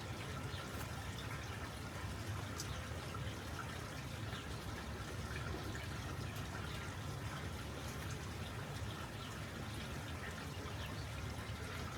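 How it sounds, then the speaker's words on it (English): Water flows down a freshly cleared bottom drain in a garden pond, a steady faint rushing trickle with no pauses, heard alone and close. "I can hear the water flowing down there."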